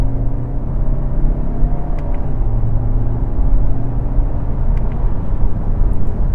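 An Audi Q3 Sportback SUV coupé in dynamic mode downshifts and accelerates, its engine a steady, loud, close droning rumble with a slight pitch change partway through.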